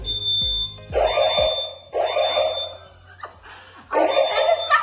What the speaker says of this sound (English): I just set the smoke alarm off.